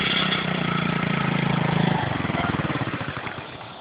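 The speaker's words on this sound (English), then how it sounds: "Two dirt bikes." A dirt bike engine idles close by with a steady, rapid putter that slows and loosens toward the end, with no talking.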